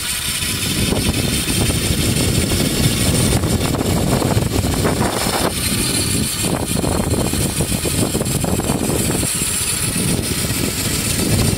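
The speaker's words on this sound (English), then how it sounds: "So there's the motor. You can hear how loud it is." A homemade electric bike motor runs loud and steady throughout, a dense droning whine with rough mechanical grit that stays close and continuous for the whole stretch, with no voices over it.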